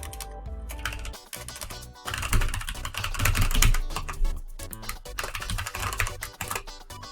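Close computer keyboard typing while account information is entered to sign up for Steam: quick bursts of key clicks and pauses, with no talk.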